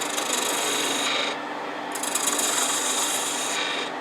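A woodturning tool rounds over the end of a wooden handle on a lathe, giving a loud, continuous raspy scraping that surges and eases in two passes.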